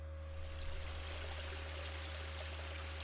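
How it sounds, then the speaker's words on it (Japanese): Running water in the Yumeutsutsu Re:Master video game, a steady rushing stream with a constant low hum beneath, even and unbroken throughout, with no voices. "The sound of running water wakes me up."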